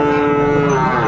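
A Sahiwal bull at a cattle market gives one loud, close, sustained moo that fills the short moment.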